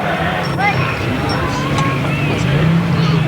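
Grasstrack racing motorcycles, including a V-twin and a four-cylinder Yamaha, rev together at the start line of a 1992 meeting, a loud sustained engine roar with rising whines under excited commentary and crowd noise.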